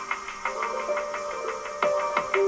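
Layered electronic track with short, repeated piano phrases and scattered effect noises over a steady bed, loud and continuous with no talking.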